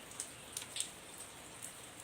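Rain falling outdoors, heard as a faint, soft patter with a few scattered, sharper drops landing nearby, with no voices.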